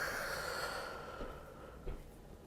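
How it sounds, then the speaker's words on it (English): A slow, deep breath drawn in and let out during a yoga session, soft and close with an airy rush that fades gradually, followed by a faint exhale-like puff. "Take another big breath in and a big breath out."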